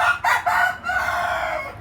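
Rooster crowing nearby, a loud cock-a-doodle-doo with two short opening notes and a long drawn-out final call, heard alone.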